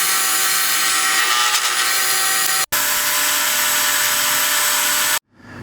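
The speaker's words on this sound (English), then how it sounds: "So I'm going to get the milling going here." A milling machine cuts a small slot in a replica Stormbreaker axe from Avengers: Endgame, a loud, steady high-pitched whine with a tonal hum, briefly cutting out once midway before running again and then stopping.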